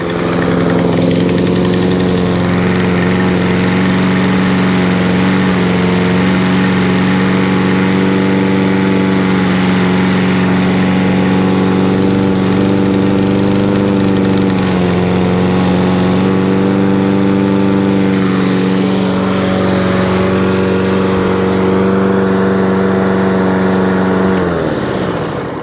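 A scrap lawn mower engine running steadily close by, a loud continuous buzzing drone that wavers slightly in pitch before cutting off near the end.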